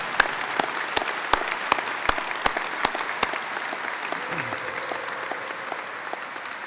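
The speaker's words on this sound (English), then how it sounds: "I want all of you to turn around and applaud your families" Graduation audience at Davis Aerospace and Maritime High School applauding families: steady crowd clapping with sharp individual claps standing out near the start, then fading into a softer wash under faint background voices.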